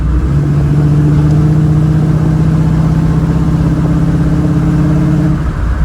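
A 1936 Chevy coupe with a small-block Chevrolet 350 V8 runs at full throttle, a loud, steady, droning engine roar with a rising hum, heard from inside the car without pause.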